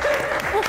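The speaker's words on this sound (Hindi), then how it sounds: "और बार बार क्यों आवाम तालियां बजाए?" Audience applause on a Pakistani television talk show, a short steady burst of clapping that fills the moment at close range with no clear voices over it.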